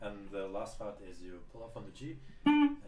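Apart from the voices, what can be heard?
No everyday noises stand out.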